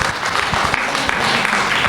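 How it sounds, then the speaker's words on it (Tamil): A loud burst of audience applause at a Tamil music event, Isaichuvadugal 2025, a dense close crowd clatter sustained at full strength through the short stretch. "பலத்த கரகோஷம்"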